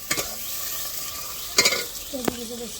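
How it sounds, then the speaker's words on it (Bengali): Onions frying in oil in a clay pot give a close, steady sizzle, broken by a few clanking stirs and scrapes of a spoon against the pot. "তেলের ওপরে পেঁয়াজ দিয়ে দিয়েছে পেঁয়াজটাকে একটু লালচে করে ভেজে নেবে"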